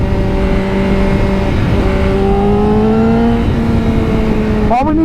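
Honda CBR 1000RR-R Fireblade motorcycle pulling hard through the gears, its engine note climbing in steady rising sweeps with a sharp shift near the end, loud and close over constant wind roar.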